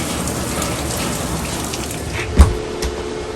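Heavy rain falls in a steady, close, hissing downpour with dense drops, broken by one sharp heavier splash or knock partway through, and no voices present.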